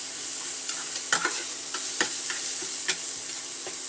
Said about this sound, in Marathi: तर कांदा पटकन फ्राय व्हावा म्हणून मी यात थोडंसं मीठ टाकते, जेणेकरून कांदा हा पटकन फ्राय होतो।